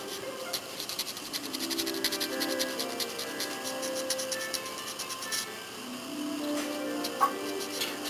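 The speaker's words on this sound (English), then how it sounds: "so I can get my sanding sponge and sand it down a little bit." A sanding sponge rubbing over a plastic model kit part, a steady close scratchy rasp of repeated strokes.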